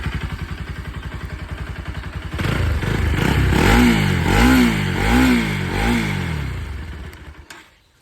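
A motorcycle engine idles with a steady putter, then revs up loudly several times in rising surges before cutting off abruptly.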